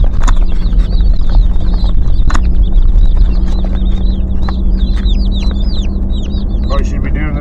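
Many baby chicks cheep constantly in high, rapid peeps over a steady low rumble like a running engine, loud and close.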